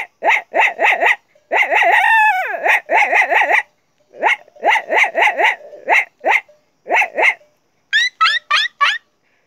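A man imitates a dog with his voice, giving loud, close rapid barks in bursts of three to six, with a few higher yelping and whining calls between groups.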